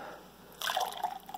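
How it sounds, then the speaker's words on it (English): Fruit punch from a US military MRE drink mix poured into a cup: after a quiet start, a steady splashing, trickling pour with small drips runs through the second half, close and fairly soft. "let's pour our fruit punch"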